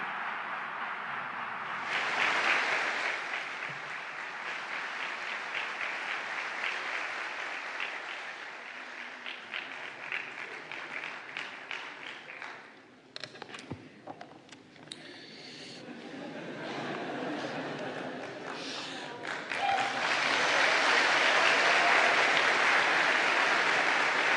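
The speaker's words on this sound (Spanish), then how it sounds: "Una salva de aplausos." A lecture-hall audience applauds to welcome Chilean President Gabriel Boric, sustained clapping that dips briefly midway, then swells again into louder, fuller applause toward the end.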